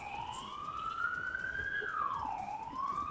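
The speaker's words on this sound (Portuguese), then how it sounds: "Vai passar um carro de polícia." A police car siren passes outside, wailing continuously as its pitch rises and then dips, at a moderate distance over a steady background hum.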